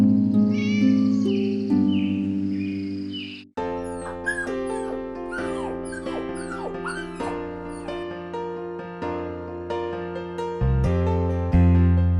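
A cartoon kitten in a Tamil animated children's story meows in a high, wavering voice, followed by a run of repeated mewing and yelping calls over a steady musical background, with no talking.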